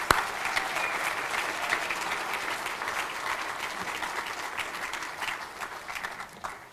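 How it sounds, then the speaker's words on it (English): A full room applauds athletes at a hall of fame banquet. The sustained, crisp clapping holds steady for several seconds, then tapers off toward the end. "One final round of applause for all of our athletes."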